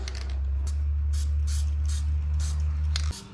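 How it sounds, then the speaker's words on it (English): Several short hissing bursts from a spray adhesive can sound over a steady low mechanical hum, which cuts off just before the end. "get your spray adhesive"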